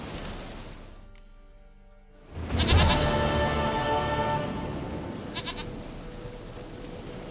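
A goat in The Witcher 3 lets out a loud, wavering bleat that swells after a quiet lead-in and trails off in a longer, shaky cry, heard alone against faint ambient game sound.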